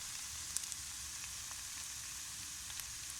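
Flammulina mushrooms frying with onion give a steady, close sizzle and hiss with faint pops and crackles throughout, with no voices.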